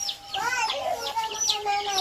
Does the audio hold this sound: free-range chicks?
yes